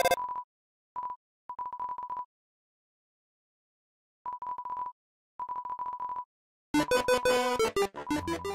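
Phone call effect from the video game Undertale: short bursts of electronic ringing tones separated by silences, followed by a louder, denser burst of chiptune-like tones at the end.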